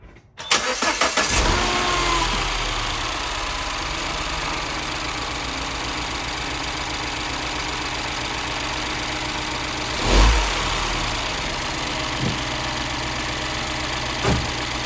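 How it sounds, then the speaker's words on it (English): A 2013 Mini Cooper S engine cranks and catches, then settles into a steady, close idle with a few faint clicks and bumps from nearby handling. "So if I run the car now for a few seconds"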